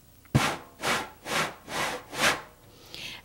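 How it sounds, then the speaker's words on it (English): Fingertips brush across a slightly rough hand drum head in five even, sweeping strokes, each a soft swelling hiss rising and fading at a steady pace, close and alone with no talk. "Now the next stroke on this drum is a brushing sound."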